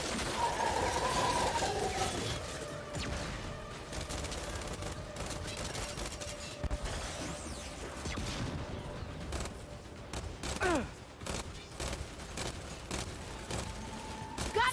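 Rapid, dense gunfire from a heavy-recoil gun in the video game Gears 5 rattles almost continuously with shifting intensity, mixed with game sound effects and a couple of sharper bursts near the end.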